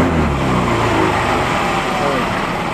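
A Yamaha Gravis scooter engine revs as a continuous, loud, buzzy drone, with its pitch shifting slightly at the start before holding steady.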